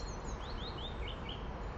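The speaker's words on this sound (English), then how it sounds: "Nothing to hear except the twittering of the birds" Small birds twitter outdoors on a frosty Cotswolds morning, a few faint high chirps and short trills drifting over a quiet, steady background.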